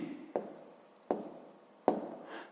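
A pen writes out the answer to a math problem on paper, three short scratchy strokes, each starting with a sharp tap, close and quiet.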